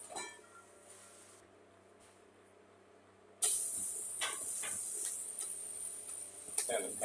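Bacon frying hard in a hot pan, a loud steady crackling hiss that cuts in abruptly partway through after a quieter stretch of low kitchen noise, with a few sharper spits near the end.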